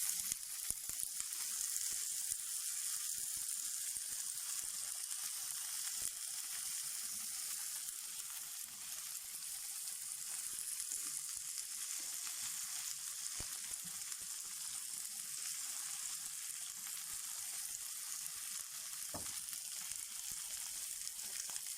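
Food fries and is stirred in a pan before chicken goes in, making a steady, fairly soft sizzle with a couple of faint utensil clicks.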